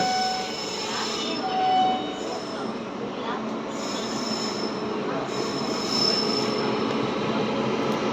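A train rolls through Itarsi Junction on an Indian railway, a steady close rumble of wheels on track with faint metallic squeals rising now and then over the continuous roar.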